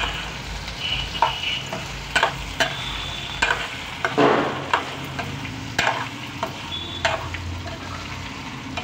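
Raw plantain pieces stir-frying in a pan, a steady close sizzle broken by repeated scraping and clinking as the spatula turns them.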